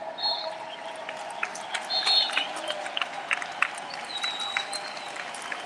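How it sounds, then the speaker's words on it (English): Street protest crowd in Barcelona clapping during a general strike after the Catalan referendum, a sparse ragged patter of applause at a distance with faint bird chirps and crowd murmur. "The clapping is for the people joining the two groups manifestando, protesting or joining."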